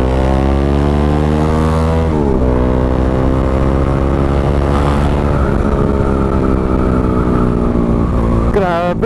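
A Bajaj Dominar 400 motorcycle fitted with a custom 61mm exhaust pipe, its engine droning loud and steady close by while riding. The pitch rises and falls as the throttle shifts, with a brief rev near the end.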